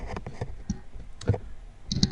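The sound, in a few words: typing on a computer keyboard over an open mic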